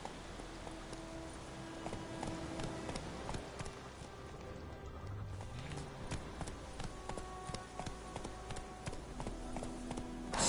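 Horse hooves galloping in The Witcher 3, a rapid, steady clip-clop rhythm at moderate distance over a faint ambient bed, continuing evenly throughout without talk.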